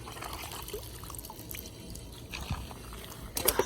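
Water drips and trickles out of a Traxxas Stampede 4x4 RC truck after it has been in a pond, soft irregular drops over outdoor background noise, with a sharper splash near the end.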